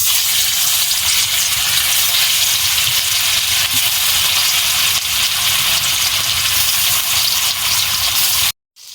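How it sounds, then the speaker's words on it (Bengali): Fish fries in hot oil for a Bengali fish curry, giving a loud, steady, hissing sizzle that runs without pause and cuts off abruptly at the end. "তেল গরম হয়ে গেছে, এবারে মাছটা দিয়ে দেবো।"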